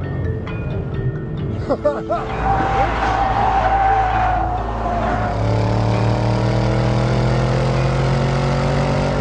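A 2012 Ford Mustang on a racetrack slides through a corner with tires squealing, then its engine revs up loud and close in a rising, sustained drone as it powers out, while a driver talks over it.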